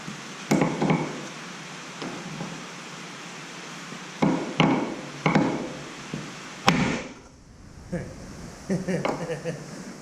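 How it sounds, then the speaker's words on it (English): Sledgehammer strikes on a part of a Mack R686ST truck under restoration, about five or six sharp, loud metallic whacks spaced irregularly, with a short pause and then a quieter cluster of knocks near the end. "I'm just going to try whacking it with a sledgehammer and see if I can't get it to pop out of there"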